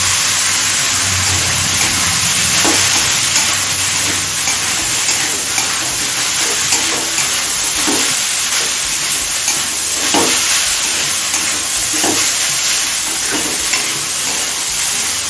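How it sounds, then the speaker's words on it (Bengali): Soybean chunks and chicken mince fry over a high flame for chicken soybean ghugni, giving a steady loud sizzle broken by repeated scraping stirs of the spatula, with no voices. "সয়াবিনটা দিয়ে আরও পাঁচ ছ মিনিট হাই ফ্লেমে কষিয়ে নিয়েছি"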